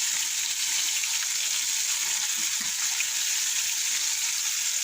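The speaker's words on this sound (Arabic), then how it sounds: "فرجعت لقيتني بحمر في السمك، فجاية تحمر فيه" Fish frying in a home kitchen pan gives off a steady, dense sizzle of hot oil that holds level and loud from start to finish, with no voices over it.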